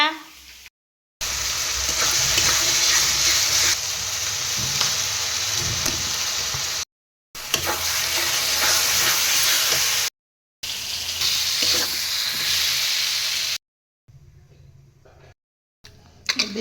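Fish frying in a pan, a loud, close, continuous sizzle and crackle that runs for long stretches, broken by short gaps, with a quieter stretch near the end.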